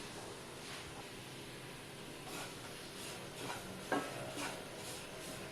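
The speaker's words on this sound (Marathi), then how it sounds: "ह्या तुपातच आपण हा गूळ वितळून घ्यायचा आहे" Jaggery melting in ghee in a pan, with a steady low sizzle and soft stirring scrapes throughout, plus a sharper utensil clink near the end.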